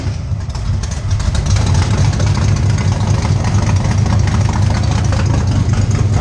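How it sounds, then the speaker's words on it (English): A 1979 Ford Mustang engine idling right after its first start-up, cold with a poorly tuned carburetor, a loud, steady, close rumble holding even throughout with no talking over it. "we got it running, and we actually got it to idle at about 1100 RPM"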